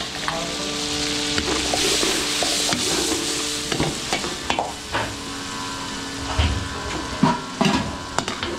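Mixed seafood with garlic, onion and butter frying in oil in a pan, giving a continuous loud sizzle broken by scraping stirs and sharp clinks of a utensil against the pan.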